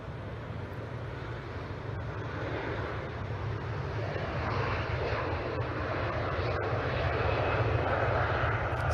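Engines of a Qatar Airways Airbus A350-1000 at an airport, a steady broad roar with a deep low hum that swells slowly, heard from a distance with no talk.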